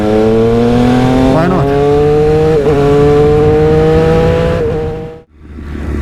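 2020 Triumph Moto2 Daytona 765 motorcycle on a racetrack, loud high-revving engine climbing through gears with brief shift dips, close and sustained, then backing off sharply near the end; a voice says a couple of words.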